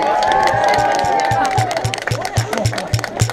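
A safari park crowd cheers and claps for an animal, a mix of voices and rhythmic clapping building loudly under a talking voice.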